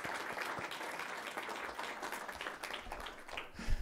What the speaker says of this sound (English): So again, I'd give her a nice round of applause.